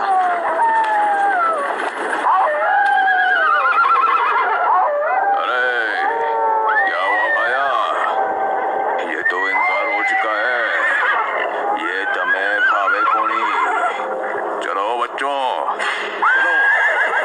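Horses neighing in a horror story sound effect: loud, shrill, wavering whinnies from several horses, one after another for the whole stretch, with faint hoofbeats and a dark, dramatic backdrop.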